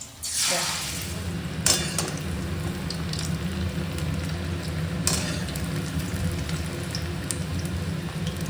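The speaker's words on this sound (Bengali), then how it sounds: "ভাজবো কুমড়োর ফুল ভেজে খেতে দেবো ওকে" Pumpkin flowers frying in a pan, a steady close sizzle throughout with occasional clinks of a utensil against the pan.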